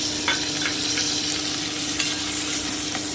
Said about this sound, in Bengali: যতক্ষণ টমেটোর কাঁচার গন্ধটা না যাচ্ছে আমি একটু ভেজে নিচ্ছি